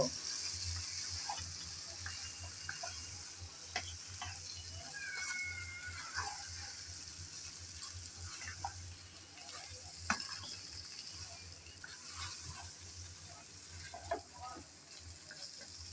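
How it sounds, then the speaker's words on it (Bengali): Prawns and bamboo shoots are stir-fried in a pan, giving a soft, steady sizzle with scattered scrapes and clinks from stirring at a moderate distance. "চিংড়ি আর বাঁশকরুল দিয়ে আবারও ভালোভাবে কষিয়ে নেব।"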